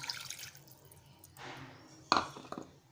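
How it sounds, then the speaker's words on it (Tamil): Water from a mixer jar being poured into a pot of hotel-style chicken curry, bursts of splashing and trickling liquid close by, with a sharper splash near the end. "இந்த தண்ணியை சேர்த்துக்கலாம்."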